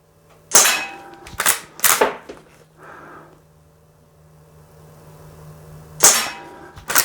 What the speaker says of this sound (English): It's shooting beautifully. My faith is restored in this gun.